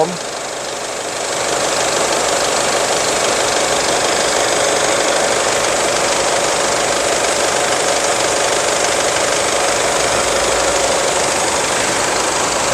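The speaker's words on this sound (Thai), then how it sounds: "สตาร์ทเครื่องยนต์แล้วนะครับผ" An Isuzu Hi-Lander pickup truck engine idles steadily close by, a continuous low rumble with a slight knocking beat that holds level after starting up.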